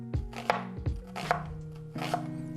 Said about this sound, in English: cuts all the way across the onion.